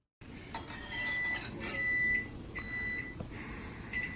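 A kitchen timer beeps in a home kitchen, giving several short, evenly spaced electronic tones over a steady background hum.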